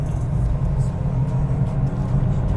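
A Mazda 2 Type R with an automatic gearbox accelerating, its engine giving a steady, loud low drone heard from inside the car, with no talk over it.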